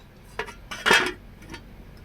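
A metal lid is set over a pot of fish curry with potatoes and thekera, making two short clinks close by, the second louder and longer, followed by a faint rattle.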